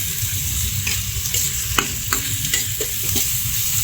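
A spoon stirs ginataang alimasag, crab in coconut milk with pepper, in a hot pan, scraping rhythmically through a steady sizzle and frying crackle, close and continuous.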